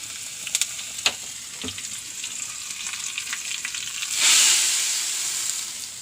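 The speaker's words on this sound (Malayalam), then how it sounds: "അപ്പോൾ എണ്ണ കാഞ്ഞു, ഉള്ളി ഇടുന്നു." Hot oil crackles and sizzles with a few sharp pops, then a louder hissing surge as onions drop into the pan, close up and without speech.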